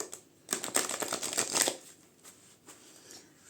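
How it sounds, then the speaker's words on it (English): A large deck of cards is riffle shuffled once, a close, rapid burst of fluttering clicks lasting about a second, followed by a few softer taps as the cards are squared. "I'll tell you what it's like to riffle, if I can riffle it."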